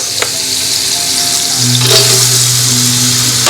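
Carrots sizzle loudly in a hot pan for vegetable pulao, a steady broadband frying hiss with a low hum joining midway and a few clinks of stirring, no voices.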